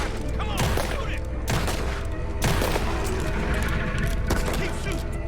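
Gunfire crackles in a Red Dead Redemption 2 shootout. Rapid, loud, overlapping shots repeat through the fight over a dense backdrop of effects, and voices talk between them.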